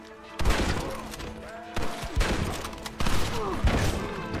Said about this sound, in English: they take two shots now with the bolt action rifle